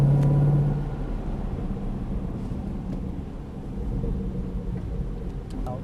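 Ford Mustang Shelby GT500 engine accelerating on a track, a low steady rumble that eases slightly after a brief louder start, no voices.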